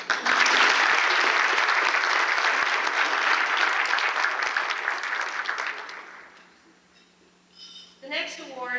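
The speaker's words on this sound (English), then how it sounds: "Let's applaud." Enthusiastic audience clapping at an award luncheon rings out strongly for about six seconds, then fades to quiet, and a voice starts talking.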